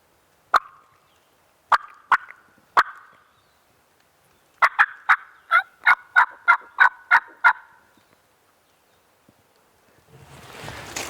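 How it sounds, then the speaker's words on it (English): Wild turkeys gobble in the distance in the Virginia mountains: a few separate calls, then a quick rapid burst, followed by rustling noise at the end. "we still got a bunch of turkeys within the mountain range here gobbling"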